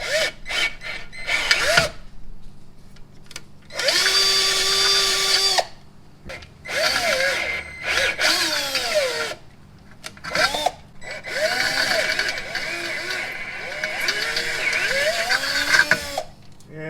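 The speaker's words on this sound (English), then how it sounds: "You just need to get the drill bit to go all the way through the aluminum core support" A power drill whirs in repeated bursts, its pitch rising and dropping as it bites through an aluminum core support on a Nissan 370Z, with pauses of quiet between runs.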